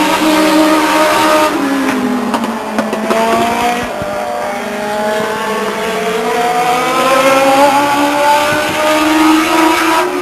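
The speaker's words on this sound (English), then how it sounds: "From San Lorenzo in the number 40 car, that's Mark Bailey." Legends race cars at Stockton 99 Speedway howl past nearby in a sustained, loud roar, with engine pitch rising and falling as they circle the track and a brief squeal of tires.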